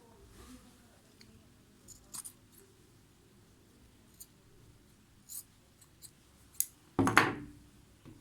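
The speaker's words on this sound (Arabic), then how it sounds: "هنبدأ بقى كده نقص من عند البوزة كده" Scissors snip through baby quilt fabric, trimming the corners of a sewn quilt, in a few light, close, isolated cuts with one louder, longer snip near the end against a quiet background.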